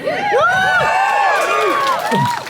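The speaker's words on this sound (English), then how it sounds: "big cheer for Holly" A crowd at a Trans Justice event in Canberra cheers and whoops loudly for comedian Holly Hazelwood, with many overlapping shouted voices rising and falling continuously, close and dense throughout.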